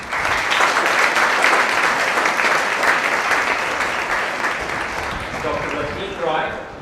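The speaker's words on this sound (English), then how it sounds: "there are no penalties for claps, so the louder the better" Audience at a Pune International Centre panel discussion on the Union Budget 2016-17 applauds the panelists, a loud, steady round of clapping that swells and then gradually thins toward the end.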